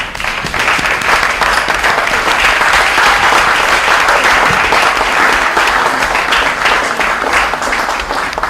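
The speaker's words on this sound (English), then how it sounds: "Ladies and gentlemen, please applaud the judges." A large audience at the Talk the Poem Finals 2017 applauds the judges with loud, sustained clapping, a thick, even roar of many hands that stays strong from start to finish.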